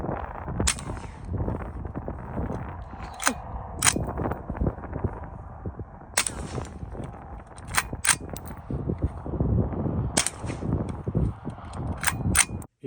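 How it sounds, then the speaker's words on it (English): Suppressed shots fired with subsonic .223 Remington handloads through an FN pistol suppressor: about a dozen sharp, fairly quiet cracks spaced irregularly over a background of ambient rustle and handling noise, with no talking. "I'm going to make some 223 ammo in order to shoot with this suppressor"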